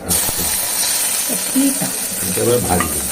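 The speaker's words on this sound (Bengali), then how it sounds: "তেল দিয়েছি আর শুকনো লঙ্কা দিয়েছি আর পাঁচ ফোড়ন দিচ্ছি" Panch phoron and dried red chillies sizzling in hot oil in a home kitchen, a steady close hiss with faint crackles and light stirring, running continuously with no talk over it.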